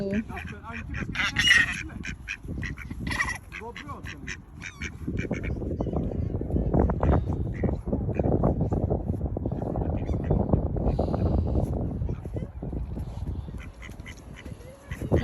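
Ducks quack repeatedly in short bursts near the start as a child chases them, then a steady rumble of motion and voices takes over, with quacking faint underneath.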